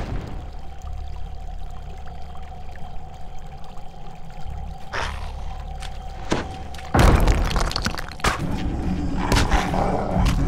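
Blessed water pours from a vial onto corrupted roots in a tomb in a video game, with a sudden rushing splash after a low ambient hum and a few scattered thuds.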